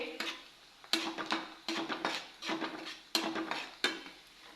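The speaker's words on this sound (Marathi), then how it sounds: "असा कांदा गुलाबी सर रंगावर झालेला आहे" Sliced onion for a dal-onion dish fries in a pan while a spoon stirs it, giving a series of sharp clacks and scrapes against the metal over a faint sizzle, with no one speaking.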